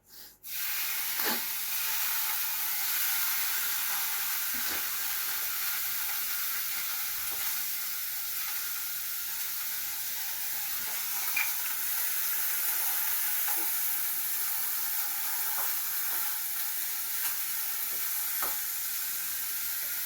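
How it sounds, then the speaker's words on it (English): Food pieces sautéing in a pan give a loud, steady sizzle and hiss that runs unbroken for about twenty seconds, with occasional faint stirring clicks. "Then I'm going to saute these pieces."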